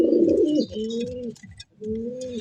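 Domestic pigeons for sale, a pair kept with two eggs, coo close by in soft, repeated rolling phrases, three or four throaty calls with brief pauses between them and no voices.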